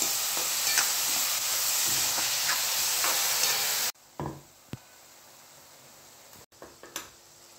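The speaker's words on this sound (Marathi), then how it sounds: "बारीक चिरलेला कांदा घालून घेऊया। कांद्यात आपण मीठ घालून घेऊयात, म्हणजे आपला कांदा पटकन परततो" Finely chopped onion with salt sizzling loudly and steadily in a hot pan for a few seconds while making egg bhurji, then cutting off abruptly, followed by a few soft knocks and stirring taps.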